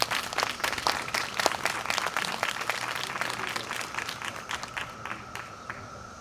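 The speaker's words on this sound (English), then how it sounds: "How about a big round of applause for your teachers, Mrs. Gar and Mr." Applause for teachers at a 5th grade school ceremony, a room full of clapping with distinct sharp claps that thins out and fades toward the end.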